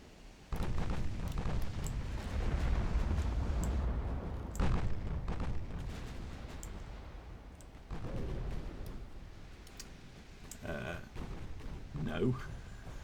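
Battleships trade naval gunfire in the Ultimate Admiral Dreadnoughts game, a series of deep booming shots and rumbling blasts over a sustained roar, some heavy explosions standing out.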